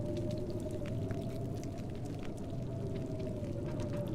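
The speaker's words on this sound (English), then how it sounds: "It doesn't sound like this wind's gonna last too long either." Wind in the survival game The Long Dark, a steady low howling rush with a faint tonal whine on top, continuous and fairly quiet, no talk.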